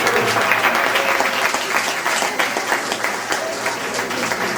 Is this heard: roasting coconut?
no